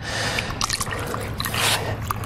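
Wort runs out of a mash tun during sparging while the grit clears, making a close, steady trickle with small splashy drips throughout.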